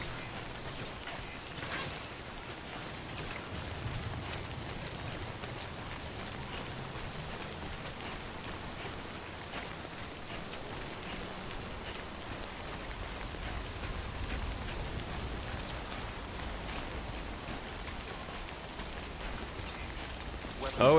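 Timefall rain in the video game Death Stranding, a steady, soft wash of rainfall hissing evenly throughout with low rumbling undertones and no distinct drops standing out.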